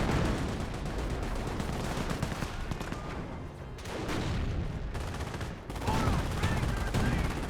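Dense gunfire from the war game Company of Heroes, with machine-gun bursts and single shots rattling almost nonstop and only a brief dip in the middle.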